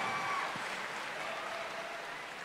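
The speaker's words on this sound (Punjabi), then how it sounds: "ਇੱਕ ਵਾਰੀ ਜ਼ੋਰ ਨਾਲ ਤਾੜੀਆਂ ਮਾਰੋ ਪਲੀਜ਼" Audience applause at the BritAsia TV Punjabi Film Awards 2019: a steady, even wash of clapping from a large crowd, heard at a distance and slowly fading.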